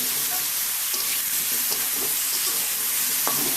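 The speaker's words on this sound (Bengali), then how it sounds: "কাজ মতো হলুদ লবণ দিয়ে দিচ্ছি দিয়ে আলুটা খুব সুন্দর করে ভেজে নেব" Potatoes fry in a pan with turmeric and salt, giving a steady close sizzle with a few soft clicks of stirring throughout, no voices.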